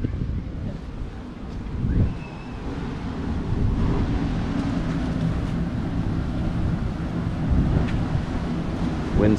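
Strong wind blows by the sea at Santa Barbara, roaring continuously with heavy rumbling microphone buffeting and the wash of surf beneath, building after the first couple of seconds and staying loud.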